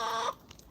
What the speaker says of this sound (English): over there, that's the rooster